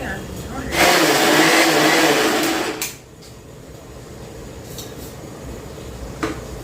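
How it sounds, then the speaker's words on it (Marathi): An electric mixer grinder whirs loudly for about two seconds grinding a spice paste, then cuts off, leaving a quiet room with a faint clink. "मिक्सरला तर मी वाटण तयार करते"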